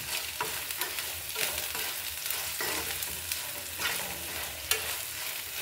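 Ivy gourd (dondakaya) frying with chili powder in a pan: a steady close sizzle with repeated spatula scrapes and stirs at a loose, uneven rhythm, no voices.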